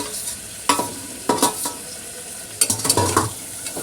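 Tomato, meal maker and peas frying in a pan for chicken biryani, with a soft sizzle under repeated scraping stirs of a spoon against the pan in short bursts, close and without talk.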